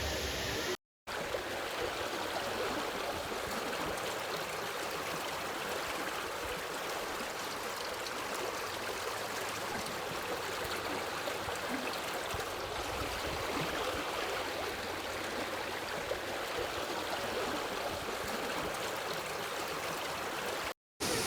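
The CKM waterfall and its flowing stream make a constant broadband roar and rush of water, steady and enveloping from start to finish, with no clear voices over it.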